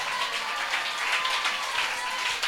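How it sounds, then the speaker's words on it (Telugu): A church congregation claps together in steady, continuous applause during a New Year worship service, a dense patter of many hands filling the space. "ఇచ్చినందుకై చేతులెత్తి చప్పట్లు కొడుతూ ప్రభుకు స్తోత్రాలు చెల్లిద్దాం."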